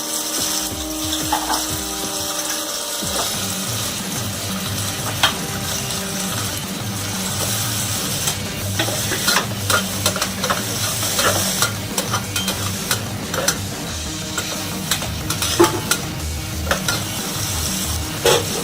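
Potatoes frying in a pan for vegetable pulao: a loud, steady sizzle with repeated scraping strokes of a spoon stirring them, close up and without talk.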